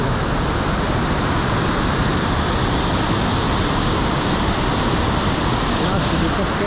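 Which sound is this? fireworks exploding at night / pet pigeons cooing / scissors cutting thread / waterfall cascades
waterfall cascades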